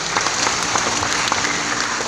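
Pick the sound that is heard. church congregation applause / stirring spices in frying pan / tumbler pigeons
church congregation applause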